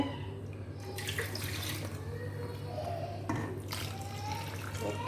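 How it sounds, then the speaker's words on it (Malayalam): Water pours and splashes steadily at close range, a continuous liquid rush with a few brief bursts and clinks, no talking. "അപ്പോൾ കുറച്ച് വെള്ളം ഒഴിക്കട്ടെ"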